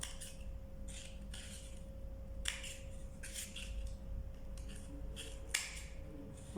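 Small scissors snipping into a hollow eggshell, making a few quiet, crisp clicks at irregular intervals over a steady low hum, with no voices.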